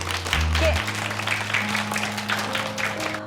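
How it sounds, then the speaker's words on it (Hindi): Applause for school students from a gathered audience, a scattered round of clapping with some voices murmuring through it and steady low tones humming underneath. "आप सबके लिए तो तालियां होनी चाहिए"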